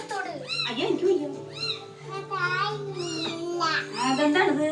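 A cat meows repeatedly in short, rising and falling cries close by, mixed with a voice speaking in between and over the calls.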